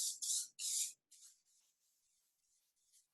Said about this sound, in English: now I'm going to spray it.